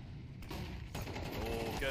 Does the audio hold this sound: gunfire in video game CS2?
yes